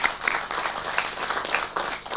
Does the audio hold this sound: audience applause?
yes